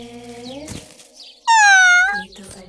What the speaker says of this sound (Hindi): ओह, तो वहाँ ये बिल्ली थी।